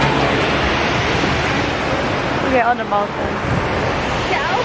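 A waterfall in Taiwan among mountains gives a loud, steady broadband rush of falling water that fills the whole scene, with wind buffeting the microphone and a person speaking briefly over it.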